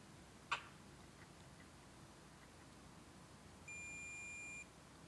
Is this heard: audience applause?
no